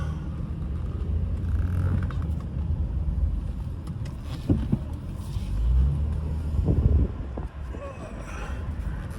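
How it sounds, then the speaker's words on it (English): A pickup truck pulls into a home driveway off a road at night, its low engine rumble and tire noise rising and easing with a few bumps and clunks, close to the microphone with some wind buffeting. "Get the truck into the driveway here before the traffic comes by."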